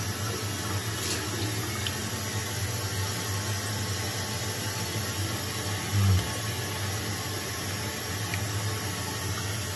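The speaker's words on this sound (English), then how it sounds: "Put some water on." A bathroom tap runs steadily while someone wet-shaves, producing a constant even hiss of water at moderate level with no talk over it.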